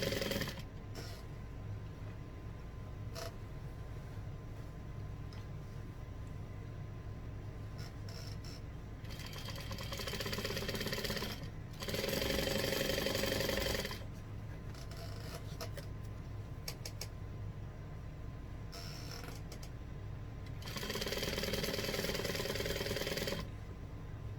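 A sewing machine stitches binding onto a quilt, its steady mechanical whir running in several bursts, louder stretches around ten to fourteen and twenty to twenty-three seconds, with quieter handling noise between them.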